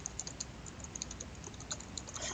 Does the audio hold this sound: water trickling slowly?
no